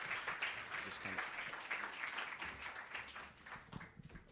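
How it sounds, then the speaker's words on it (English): Audience applause at a Young Scientist Kenya media launch in Kenya, a sustained burst of clapping from a crowd in an indoor room, fading slightly toward the end. "Can we give them both a round of applause?"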